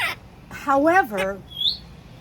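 A pet parrot lets out a brief, high squawk while a person talks nearby, the bird call rising above the voice near the end.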